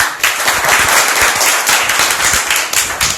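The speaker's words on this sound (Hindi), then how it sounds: "एक बार तालियां बजाएं ऐसे।" A live audience claps together at a motivational presentation, loud and close, a dense continuous burst of many hands with a few sharper individual claps standing out.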